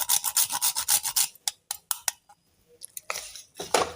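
Nutmeg is grated for wheat kheer in a quick series of close, light scraping rubs, then a few scattered scrapes and soft clinks after a pause.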